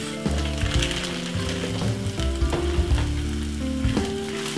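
Corned beef pasta sizzles steadily in a hot pan while being stirred, with loud continuous frying crackle and intermittent scraping movements throughout, no voices.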